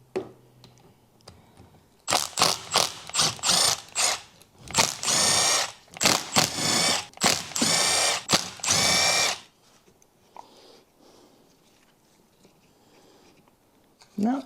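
A ratchet clicks in rapid bursts while turning tiny bolts on an Audi engine's oil pump, loud and close for several seconds, then stops and leaves a quiet room.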